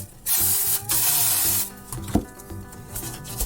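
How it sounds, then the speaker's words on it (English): Cooking spray hisses onto a loaf pan for bread made in a bag: two strong, close bursts, followed by quieter clicks and handling noises. "I'm going to go ahead and grease my loaf pan just like I did the other one."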